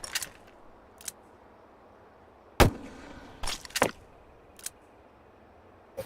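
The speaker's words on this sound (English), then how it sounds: "It makes the same explosion effect as one of these soda cans" Cartoonish potato explosion effects from a video game, several sharp, loud bursts scattered over a quiet background, each brief and punchy with a short tail.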